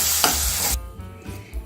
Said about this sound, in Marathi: 5 मिनिटं छान परतून घेणार.